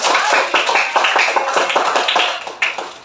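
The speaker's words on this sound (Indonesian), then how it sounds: "Beri tepuk tangan buat kelompok semua kelompok yang ada di sini." Students in an elementary classroom clap for their classmates' groups, a dense run of bright, overlapping handclaps lasting a few seconds, loud and close with some sharper individual claps standing out.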